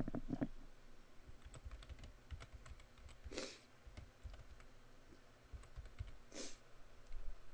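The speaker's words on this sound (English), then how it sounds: "I'm going to click in the area and I'm going to type the Bayou Brawl." Fingers tap out a short burst of typing on a computer keyboard, quick light clicks close to the microphone, with two slightly louder keystrokes standing out and no talk over them.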